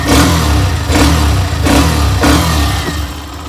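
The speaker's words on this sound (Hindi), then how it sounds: "बाकी हाँ एग्जॉस्ट नोट इसका सुन लेते हैं भाई" A Hero Xtream 125R motorcycle engine revving up and dropping back several times, giving a loud, close exhaust note between short idle dips.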